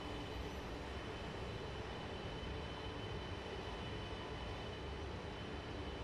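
Chinese CRH2A EMU high-speed train from Train Simulator 2016 coasting to a stop at a platform, a steady, dense rumble with broad hiss that holds level throughout, no voices.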